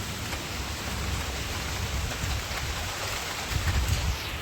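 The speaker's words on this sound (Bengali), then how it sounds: "কত জোরে বৃষ্টি হচ্ছে।" Heavy evening rain pouring down steadily, a dense, loud, even wash of hiss with a low rumbling undertone throughout.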